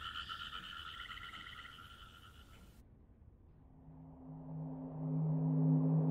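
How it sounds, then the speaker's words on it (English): Recorded frog croaking: a repeating tonal croak pattern in the first half, then a denser, louder chorus of low croaks building toward the end, with no voices. "I found frog sounds online and found them intoxicating and relaxing."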